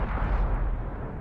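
An M44 self-propelled artillery gun fires a shell in World of Tanks: a single loud, heavy boom with a deep rumbling roar that fills the short moment, with no voices over it.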